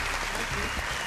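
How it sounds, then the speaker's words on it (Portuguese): A crowd claps for a teacher, with dense, steady applause filling the whole short moment. "Salva de palmas para a professora."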